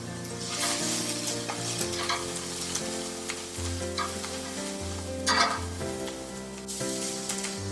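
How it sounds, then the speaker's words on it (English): Tomato pizza sauce with parsley, rosemary and thyme simmers and sizzles in a pan, with steady close bubbling, a continuous sizzle and occasional stirring scrapes. "I'm going to let that simmer another 2 or 3 minutes"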